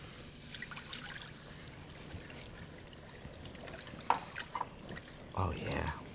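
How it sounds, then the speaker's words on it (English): White wine poured into a hot pan to deglaze it during vegetable bolognese cooking makes a soft, quiet trickle and light sizzle, with faint kitchen clatter near the end. "we're going to do our white wine because we're going to deglaze our pan right at this moment"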